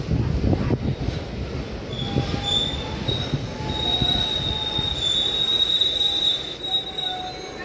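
A train pulls into New Changrabandha station, its steel wheels letting out a long, high, loud squeal that runs through most of the stretch over rumbling railcar noise, with no voices.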